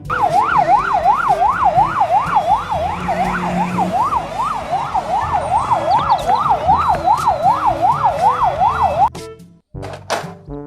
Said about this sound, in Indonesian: Mobil patroli polisi.